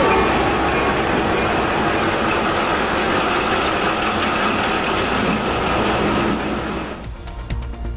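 A railway engine on a single track near Gujranwala runs with a loud, steady rumble and drone that holds for several seconds, then drops away abruptly, leaving quieter clanks and faint noise.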